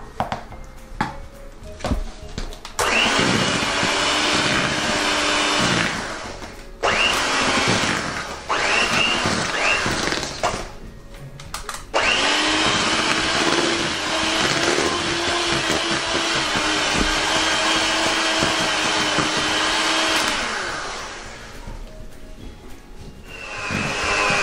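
An electric mixer whirs through muffin batter in long continuous runs, loud and close, stopping briefly several times before starting again.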